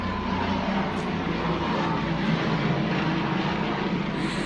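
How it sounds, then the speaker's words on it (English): An airplane flies overhead with a continuous, loud, broadband engine roar that stays steady throughout, with no speech over it. "Sorry, another plane."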